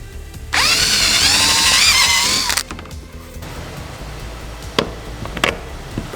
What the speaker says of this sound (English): We're gonna drill this hole out to 1/4 inch